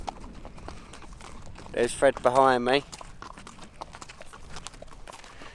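Horses ridden by a tour group in Cappadocia, Turkey, walking with steady clip-clopping hooves heard faintly throughout while people talk briefly nearby.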